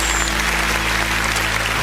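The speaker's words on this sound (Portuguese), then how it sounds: "Vamos aplaudir o nome de Jesus." Applause from a church congregation during an online worship service, a steady dense wash of many hands clapping together at fairly loud level throughout, with a low hum underneath and no clear talk.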